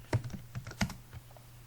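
Computer keyboard keys tapped while typing HTML and CSS code, a few distinct clicks in short uneven bursts, close and fairly quiet, with no one speaking.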